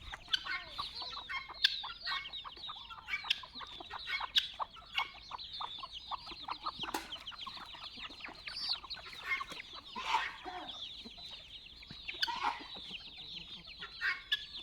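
Chickens cluck and chatter in a busy flock near rice fields, with overlapping clucks and calls coming steadily at close range and no clear talk over them.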